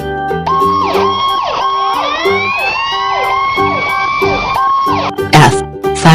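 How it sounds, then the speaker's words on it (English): A fire truck siren wails with rising and falling sweeps over a continuous hum, loud and close, and ends in a burst of noisier horn blasts. "F. Fire truck."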